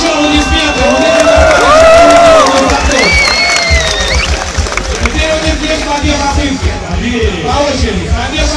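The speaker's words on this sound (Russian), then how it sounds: "Можно им еще аплодисменты?" A crowd at an NBA slam dunk contest in Moscow applauds and cheers loudly, with whoops and shouts rising over dense clapping, then settling into a rougher crowd roar.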